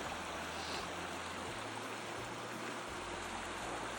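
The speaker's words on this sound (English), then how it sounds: "Beautiful little brook." A small brook flows fast and steadily at the foot of a long hillside trail, its even rushing water noise filling the scene close by with no talking.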